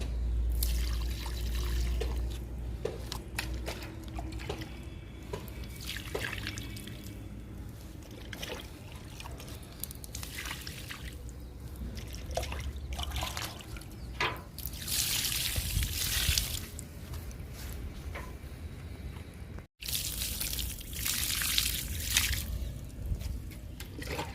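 Liquid fertilizer poured over leafy vegetable plants such as amaranth in a home garden makes a soft, continuous trickling and splashing that stays fairly faint against outdoor background noise.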